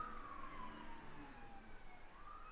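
A distant emergency vehicle siren wails faintly, with its pitch sweeping slowly down and then rising again, beneath a low steady background rumble.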